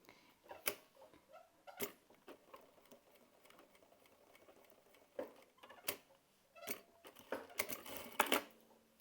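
Domestic sewing machine stitching a seam on fabric for a plush comfort toy, heard up close in short runs of rapid mechanical ticking separated by pauses and sharper clacks, quiet overall with no talk.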